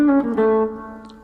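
Electric guitar notes in a scale run moving from the fifth to the seventh position pattern, a few sustained clean legato notes, close and alone.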